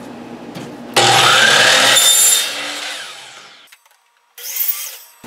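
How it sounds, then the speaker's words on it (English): A miter saw cuts a length of PVC pipe against a wooden stop: a loud, close power-tool whine and rasp for about a second and a half, spinning down, followed by a shorter second burst. "I'm cutting the PVC pipe to 24 inches long"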